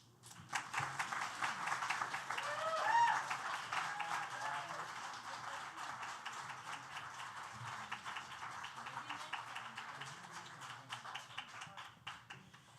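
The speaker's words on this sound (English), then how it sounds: "please give a round of applause for every single reader, all the writers, to yourselves" An audience at a readers' and writers' event applauds in a dense, steady wash of clapping that holds for about twelve seconds, moderately distant and fairly soft.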